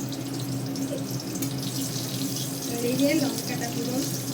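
Tap water runs steadily into a pot in a home kitchen while chyala fish is cooked with mustard paste, a continuous close wash of sound with faint background voices.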